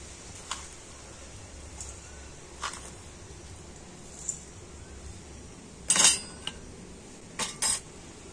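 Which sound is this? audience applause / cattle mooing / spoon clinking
spoon clinking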